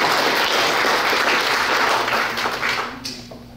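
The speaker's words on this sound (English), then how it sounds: "let's give her a great round of applause for her service to America" Brief, full applause from an audience honoring a US Army veteran at a Veterans Day tribute, steady clapping that tapers off in the final second with a low hum beneath.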